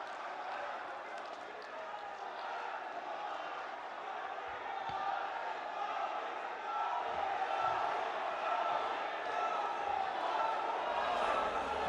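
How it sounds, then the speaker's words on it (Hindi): Large crowd applauding and cheering in welcome of the Prime Minister at a public scheme-launch and inauguration event in Begusarai, Bihar: a steady, dense roar of clapping and voices that holds for about twelve seconds and swells slightly midway. "दोनों हाथ ऊपर करके जोरदार तालियों के साथ स्वागत करें हमारे माननीय प्रधानमंत्री जी का"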